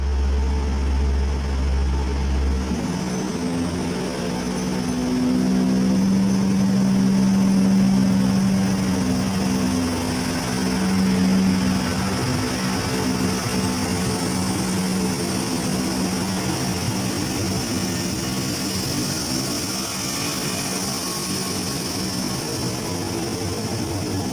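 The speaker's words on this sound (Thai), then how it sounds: "เอกลักษณ์ของ อดิเซลางเดวู นะครับ แรเสียงดังมากนะครับ" A Daewoo diesel railcar running as train 21 from Bangkok to Ubon Ratchathani, at Surin station, gives a loud, steady engine roar that holds throughout with a deep low drone and no talk.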